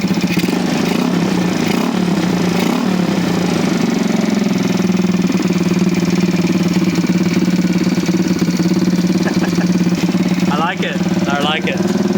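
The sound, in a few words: Honda Gyro X scooter engine running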